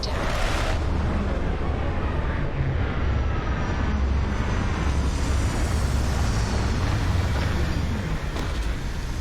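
A spaceship sets down in the video game Starfield, its engines giving off a loud, continuous roar. The rumble holds steady and close for the whole stretch, with no talking over it.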